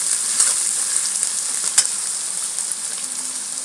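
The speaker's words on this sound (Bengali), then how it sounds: "দিয়ে পেঁয়াজটাকে একটুখানি নেড়ে এর মধ্যে আলুটাও দিয়ে দেবো" Onion and potato frying in oil in a pan with bay leaf, a steady close hiss and crackle with a few scrapes from stirring.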